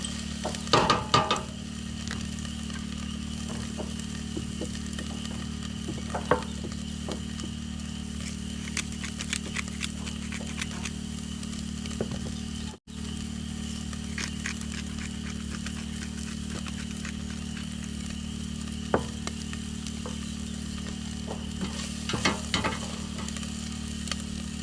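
Wild poke salad greens fry in a pan with a steady low sizzle and hum, punctuated by occasional soft scrapes and taps of a stirring utensil.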